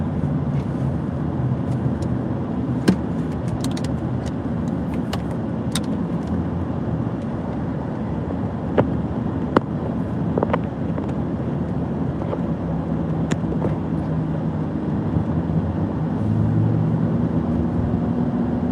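Car driving on the 95 highway, a steady low road and engine rumble with wind noise throughout, punctuated by occasional faint clicks and ticks inside the cabin.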